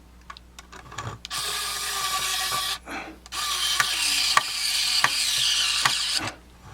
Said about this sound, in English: we'll drill these screws back in.